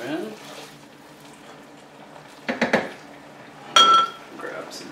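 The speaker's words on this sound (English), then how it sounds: "We're gonna just lightly toss our asparagus in this." Asparagus being tossed with tongs in almond sauce in a pan, a few quick metallic clinks and rattles against the pan over a soft sizzle, close by, as a person talks.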